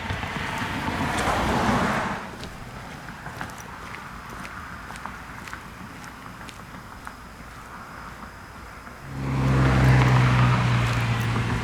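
Two cars pass on a quiet street at night, their tyre and engine rush swelling near then fading, with a lull of faint ambience between them.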